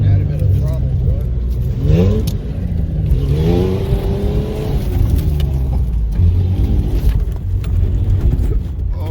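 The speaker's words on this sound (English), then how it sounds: "So if we happen to go this way and add a bit of throttle to it." An off-road vehicle's engine revs under added throttle while wheeling through snow, rising in pitch several times over a steady loud drone, with people talking faintly in the cabin.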